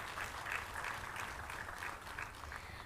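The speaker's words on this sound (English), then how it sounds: "I would like all of you to join me in welcoming Shri S.P. Singh Baghel, sir, Minister of State, with a big round of applause." At a food regulators summit in a New Delhi auditorium, an audience gives steady, soft, distant applause to welcome a government minister, an even wash of clapping with no voices on top.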